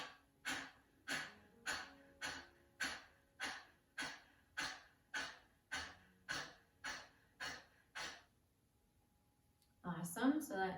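Kapalbhati breath of fire during a yoga flow: about fourteen sharp, forceful nasal exhales in a steady fast rhythm, close and clear, then a pause and a deeper breath.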